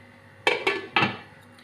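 Three sharp metallic clanks of a lid being set onto a cooking pot of onions for chicken karahi, close and fairly loud, spaced over about a second, with a faint stove hum beneath.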